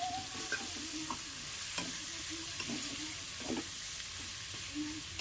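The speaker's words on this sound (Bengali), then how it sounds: "পেঁয়াজ কুচি দেওয়ার পর এটাকে ভালোভাবে নাড়তে হবে" Chopped onions frying in a pan for a masala chicken dish, with steady sizzling under repeated scraping and stirring strokes, close and fairly even throughout.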